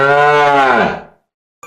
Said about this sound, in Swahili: Hii ni sauti ya ng'ombe.